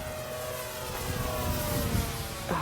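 A giant J Power P-51 Mustang RC plane flies overhead at a little over half throttle, its engine drone steady and moderately distant, building slightly toward the end, with no speech.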